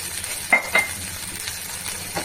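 Ghee sizzling in a pan during vegetarian cooking, a steady frying hiss with two sharper clinks of a utensil against the pan and softer stirring scrapes.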